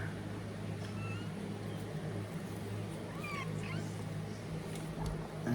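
A cat meows a few times, faint and high over a steady low engine drone and outdoor noise near a roadside in Antipolo.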